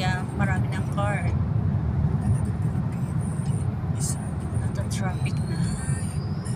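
Steady city road traffic in downtown Montreal, a continuous low rumble of cars passing close by with a brief higher whine near the middle, while a person talks over the first part.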